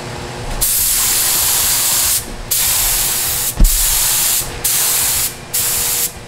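A spray gun lays down clear coat paint in loud, close bursts of hiss, about five passes separated by short pauses, with no talking.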